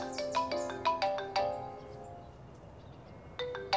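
A mobile phone ringtone for an incoming call plays a bright chiming melody in quick repeated bursts, then goes quiet before the tune starts again near the end; no one speaks.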